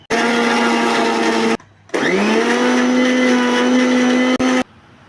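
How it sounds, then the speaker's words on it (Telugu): A kitchen mixer grinder blending onion, chili powder and salt into a paste, running loud and steady in two bursts with a brief stop between, the motor whine dropping and spinning back up, then cutting off. "కారం టూ స్పూన్స్ ఉప్పు ఒక స్పూను ఇవన్నీ ఇప్పుడు మిక్సీ వేసుకొని పేస్ట్ లాగా తయారు చేసుకోండి"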